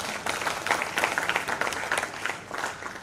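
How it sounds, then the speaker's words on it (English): Audience applause at a safe motherhood conference in 2023, a steady wash of many hands clapping with no voices on top, holding at moderate loudness for about three seconds. "Another round of applause to..."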